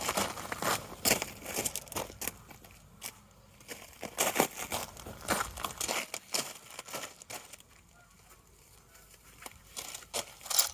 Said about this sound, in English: I'm going to put some gloves on before I cut myself.